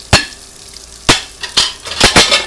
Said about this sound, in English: This is how you wash dishes.